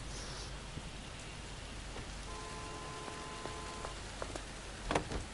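Hard rain falls steadily in the video game L.A. Noire, a dense even hiss with scattered drips and faint tones, a brief sharper clatter near the end.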